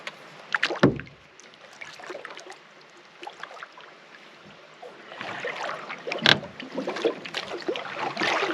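A canoe is paddled across a calm lake on an evening outing, with intermittent close splashes and drips from the paddle strokes and a stream trickling faintly in the background; nobody speaks.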